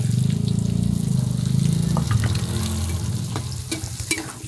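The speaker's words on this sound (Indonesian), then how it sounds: "Goreng dulu jengkol mudanya." Young jengkol beans fry in hot oil, giving a loud, steady sizzle with bursts of crackle and stirring noises close by; no one speaks.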